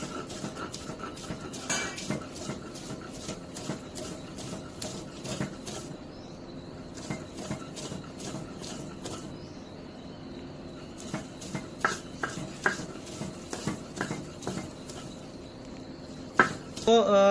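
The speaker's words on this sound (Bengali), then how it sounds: "কাঁটা ছাড়ানো মাছ এখন বেটে নেওয়া হবে।" Boneless fish being ground into a paste for fish bharta, on top of onion, chilli and garlic already ground: close, steady, rhythmic scraping and grinding strokes that keep repeating and grow louder toward the end.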